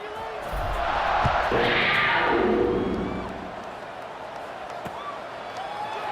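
Stadium crowd cheering in the College Football 26 video game, a broad roar that swells loudly then eases to a steady murmur, with a commentator's voice talking over it.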